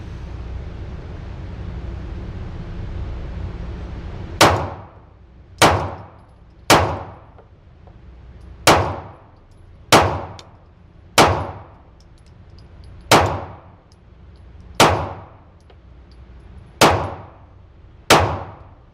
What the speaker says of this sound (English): Let's shoot back at the bottom right again.